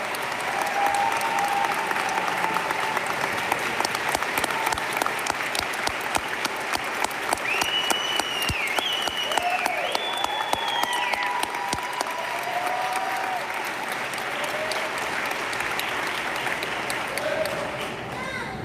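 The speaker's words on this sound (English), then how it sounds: "Can you give her a round of applause?" Sustained applause at a graduation ceremony, steady crowd clapping filling the space, with occasional cheers and voices rising over it and a few sharper claps standing out.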